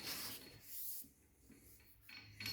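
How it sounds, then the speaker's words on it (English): A sanding block rubbing back and forth over primer on the body of a 1963 Cadillac Coupe de Ville, a close, steady raspy scrubbing in several strokes with brief pauses between. "I'm going to go that side and take a little more primer away"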